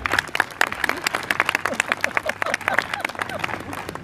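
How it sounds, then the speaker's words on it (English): Applause from an a cappella concert audience in Shoreview, Minnesota, a steady patter of many hands clapping at close range with some crowd voices mixed in. "Give yourselves a giant round of applause."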